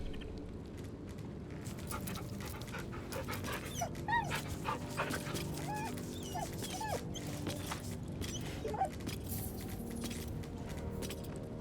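A dog whimpers in Baldur's Gate 3, muzzle stuffed with a small bag it carries in its mouth. Several short, rising whines come in a loose series over a steady low ambient game backdrop.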